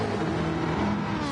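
A McLaren GTE race car engine in a racing video game, a loud steady high-revving drone held throughout a short burst.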